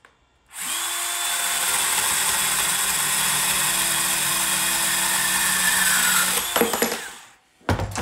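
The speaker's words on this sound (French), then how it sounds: "je le fais avec la petite scie à ruban qui va extrêmement bien" A small band saw cuts through threaded rod in a workshop: the motor spins up to a steady loud whine with a grinding cutting tone, runs about six seconds, then clatters and winds down.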